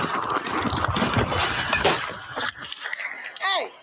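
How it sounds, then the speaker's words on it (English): Police baton smashing a car taillight, a loud close crash with breaking, shattering glass and plastic, heard with voices and some street noise, followed by a few clinking bits. "pulled out his baton, and smashed the woman's taillight"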